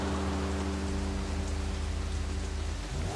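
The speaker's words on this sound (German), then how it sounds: "Oder das ist der Regen." Rain falling in the video game Sleeping Dogs, a steady hiss of rain noise under a low sustained tonal hum and faint music, continuous and even, with no speech.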